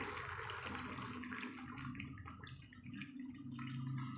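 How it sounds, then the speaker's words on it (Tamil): Dissolved tamarind water is poured into a Tamil kara kuzhambu curry with brinjal, garlic, onion and tomato, making a steady, moderately faint splashing and trickling stream with no talk. "வாங்க புளி கரைச்சி ஊற்றிப்போம்"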